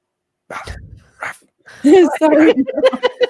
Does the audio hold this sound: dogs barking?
yes